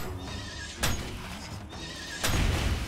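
A horse neighs twice in the video game Outward, loud, close whinnies with a gap between them over steady ambient game noise, and no one talks.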